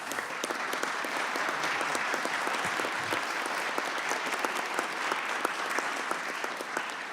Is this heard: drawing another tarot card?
no